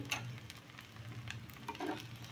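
A rava dosa made from semolina batter crackles faintly on a hot pan, with a soft, continuous sizzle and a few light ticks and scrapes.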